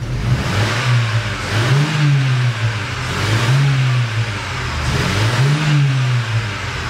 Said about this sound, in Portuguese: Agora o carro pega normal, ó, e acelera, ó.